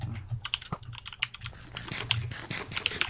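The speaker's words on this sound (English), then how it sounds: "I heard your keyboard" Rapid, steady keyboard typing on a computer during an online game, close-up clicks running continuously for a few seconds with small bursts of louder keystrokes and no voices.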